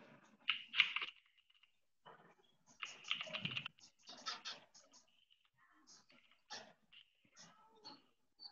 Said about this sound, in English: You are typing something.